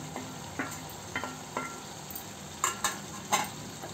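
A spoon stirs a pepper crab curry with green chillies and coriander in a pan, a soft steady sizzle broken by several scraping strokes and light clinks, close and fairly quiet.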